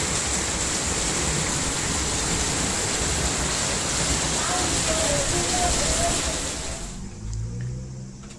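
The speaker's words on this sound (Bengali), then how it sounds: "এত জোরে বৃষ্টি পড়তেছে" Steady, dense heavy rain in Japan hisses loudly and evenly, then drops off abruptly near the end, leaving quieter background sound.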